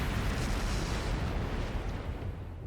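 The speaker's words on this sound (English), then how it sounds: "Flash grenade! Everyone down!" A flash grenade blast in Trails of Cold Steel III gives a dense, roaring explosive rumble that stays loud and broadband throughout and fades slightly at the end, with no talk.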